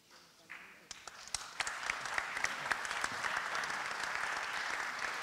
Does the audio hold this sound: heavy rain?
no